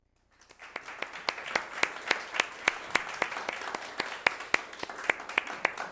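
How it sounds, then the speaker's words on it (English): Conference audience applauding at a sustainability event, with a small group clapping in a slow, uneven rhythm of distinct sharp claps that starts after a brief silence and continues steadily and fairly close. "we're applauding"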